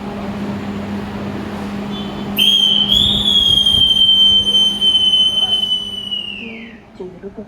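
An Indonesian economy-class extra train from Pasar Senen to Lempuyangan rolls along with a low steady rumble, then a loud, sustained high wheel squeal rises and fades over several seconds.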